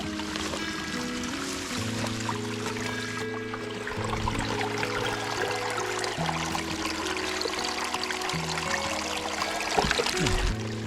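Mountain stream water pours and trickles into a water bottle near Mt Dalrymple, close and continuous with shifting gurgling tones and a brief splash near the end.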